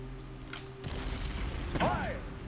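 An artillery bombardment in the strategy game Shadow Empire, with a few dull booms and a rumbling impact under background game tones, followed by a brief whistling sweep near the end.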